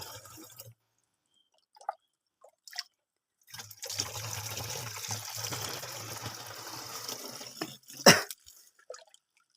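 Spring water beside a rice field trickling and splashing steadily for several seconds, a soft continuous liquid patter with a few sharper drips, heard close by with no talk.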